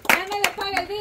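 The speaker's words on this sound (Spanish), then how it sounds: "Un aplauso para churro." A small crowd claps briefly for a man called Churro at a lively street gathering. A few sharp, scattered hand claps ring out close by over voices and a steady tonal hum.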